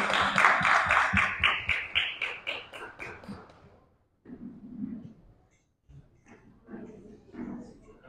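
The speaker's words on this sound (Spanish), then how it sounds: "Démosle un aplauso." Audience applause breaks out at a press conference in Texcoco for a boxing event, a dense burst of clapping that fades over a few seconds before voices speak in between.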